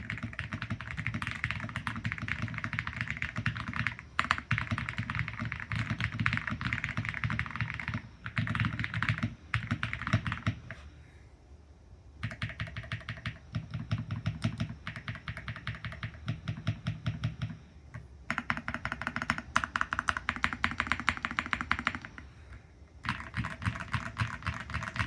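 Continuous fast typing on a Keychron Q1 Ultra mechanical keyboard, dense muted clacks with a dull, soft tone, broken by a few short pauses.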